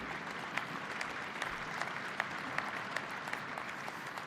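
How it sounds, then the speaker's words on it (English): Steady applause from a large audience at a European People's Party congress, a continuous dense clatter of clapping with scattered louder claps, sustained for the whole stretch without voices. "Let's give big applause to him."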